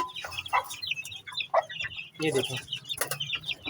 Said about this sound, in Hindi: ये देखें माशाल्लाह से मुर्गी बाहर निकल गई है